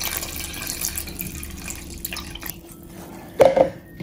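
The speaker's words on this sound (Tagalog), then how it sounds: "So, ito, ipuro lang natin siya sa ating bangos." Brine water pours onto bangus milkfish in a kitchen, a soft continuous trickle and splash with a brief louder gush near the end.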